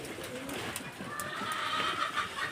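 Slightly sick pigeons on a house rooftop coo softly and steadily through the clip, low murmuring calls over a faint, continuous background hiss.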